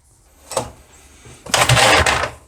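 A Honda GX160 engine on a mini bike, primed with starting spray, is cranked and tries to catch: a short pull, then a louder sputtering burst of about a second that dies away, close by, with no talking.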